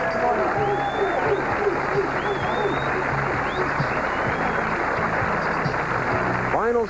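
A bowling crowd at the 1988 Cleveland Open, the $150,000 Miller Lite Open, gives the champion a steady round of applause that holds for several seconds while announcers speak over it.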